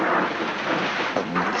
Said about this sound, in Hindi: इस वक्त इतनी बारिश में?